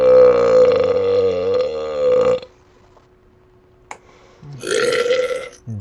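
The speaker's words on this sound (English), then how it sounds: "Fucking burping up a cordon bleu burger." A young man lets out a long, loud burp after eating a cordon bleu burger, a deep, drawn-out belch. A second, shorter burp follows after a quiet gap.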